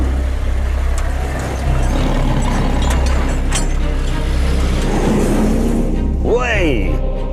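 A Range Rover's engine drones steadily as it drives a sand track in GTA V, the sound continuous with a sweeping mechanical whine near the end, under talking.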